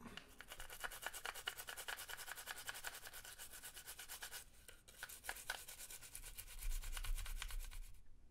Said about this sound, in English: I'm going to scrub through what I can and see how much further we can get along.